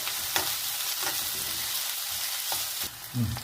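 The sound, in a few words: onion and green chillies sautéing in a pan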